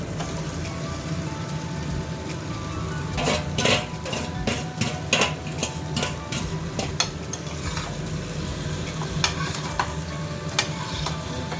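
Chicken meat goes into a pan of frying potatoes and tomato for a light chicken curry. A steady close sizzle continues under repeated metallic clinks and scrapes of a spoon stirring against the pan, with no voices.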